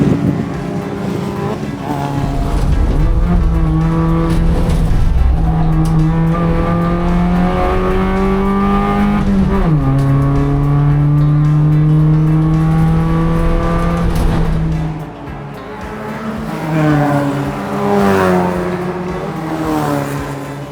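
Race cars accelerating off the start of a Levitas Cup race, loud engines climbing through the gears with rising revs, a pause in the middle before another surge, all close and with wind buffeting the microphone.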